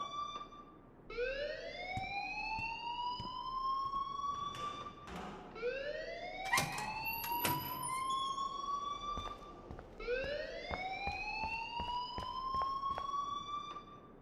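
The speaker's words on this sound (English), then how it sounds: "please turn off that alarm since that's your job" A fire alarm siren in the video game Life is Strange, three rising wailing sweeps repeating, with scattered thumps and taps between them.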